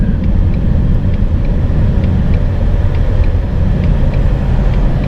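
A 2018 Ford Mustang GT with a 10-speed automatic, its engine rumbling as a loud, steady low drone heard from inside the car throughout, with no clear distinct shift blips standing out.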